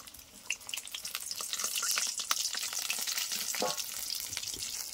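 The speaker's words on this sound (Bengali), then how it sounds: "আর আগে যেটা ভেজে রেখেছিলাম ওইটাকে এবার ভেজে নেব আরেকবার।" Chicken pakoda pieces being fried a second time in hot oil, a steady close sizzle with bubbling crackle throughout and no talking.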